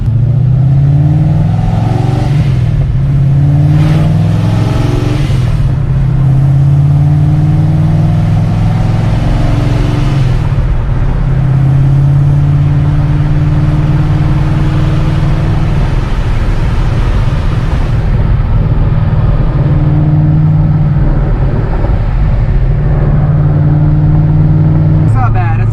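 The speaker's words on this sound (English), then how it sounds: "so you can hear what the car sounds like with mufflers on it" A Corvette engine rumbles deeply and loudly, revving up and easing off several times through mufflers, giving a muffled, throaty exhaust.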